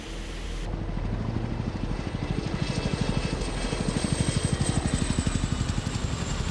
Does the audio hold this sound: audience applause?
no